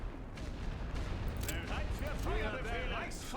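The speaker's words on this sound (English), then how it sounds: "Start dropping artillery on that machine gun." Artillery shells pound a machine-gun position in a World War I strategy game, a continuous rumble of booming impacts and gunfire with battlefield voices shouting over the din.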